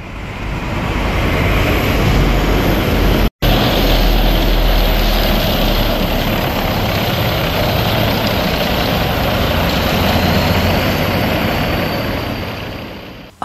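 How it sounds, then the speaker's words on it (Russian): A BAZ all-wheel-drive flatbed military truck rolls past in a Moscow Victory Day parade, a loud, steady low engine rumble with broadband roar that holds for the whole stretch, briefly cut once early on. "прошел и самый необычный участник репетиции парада – полноприводный автомобиль БАЗ в бортовом варианте"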